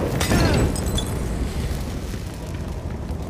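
Video game explosions in Gotham Knights, as a building burns: a loud, booming blast with crackling debris up front, fading into a sustained roaring rumble.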